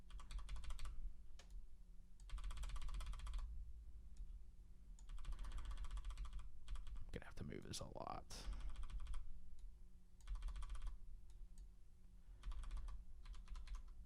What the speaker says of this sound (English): Loud keyboard, just smacking up against things.